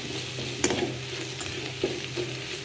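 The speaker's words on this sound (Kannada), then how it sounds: "ಸೊ ಇದು ಹಾಕಿ ಎಲ್ಲನ ಫ್ರೈ ಮಾಡ್ಕೋಬೇಕು" Cauliflower and potato fry with a quarter spoon of turmeric over a low flame, a soft continuous sizzle punctuated by a few sharp spoon scrapes and clinks against the pan.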